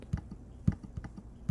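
A few separate, faint clicks on a computer, like a mouse or key being pressed to go back, spaced irregularly across a quiet moment with no speech.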